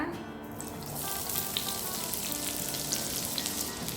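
Onions sautéing in a pan for a Chettinad-style vegetable pirattal. A soft, steady frying hiss runs throughout and stays fairly faint, with gentle stirring and a quiet tonal backdrop.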